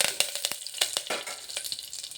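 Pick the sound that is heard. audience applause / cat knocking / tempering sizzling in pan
tempering sizzling in pan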